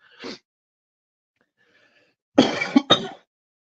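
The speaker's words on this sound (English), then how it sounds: "It's been a heavy, bad day for coughs, especially if I talk more." A man coughs and clears his throat: one short cough, a pause of silence, then a louder burst of two or three harsh coughs close to the microphone.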